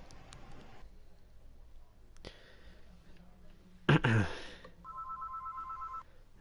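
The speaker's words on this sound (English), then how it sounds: "your phone's ringing." A phone rings during an NHL 20 EASHL online gaming session, with a short electronic ringtone tone near the end following a few clicks and a loud thump, faint voices talking in the background.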